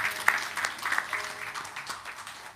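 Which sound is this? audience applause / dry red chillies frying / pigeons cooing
audience applause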